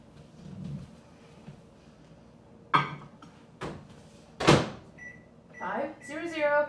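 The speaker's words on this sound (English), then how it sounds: "we're gonna put this in our microwave for 5 minutes" Kitchen sounds of a microwave oven: a few sharp clunks and beeps, a door shutting, then a hum starting as it runs at power level 7, with a voice speaking at the end.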